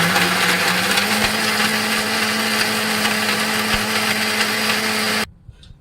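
A mixer grinder whirs steadily while grinding coconut, salt and tamarind for a butter masala dosa, a loud high motor drone held for several seconds before cutting off abruptly into near silence.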